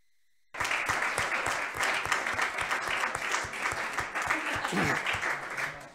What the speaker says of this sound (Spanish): propongo un aplauso para Antón